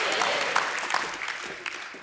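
Church congregation clapping during a lively healing service, a short burst of scattered, uneven handclaps over room noise, fairly loud and close.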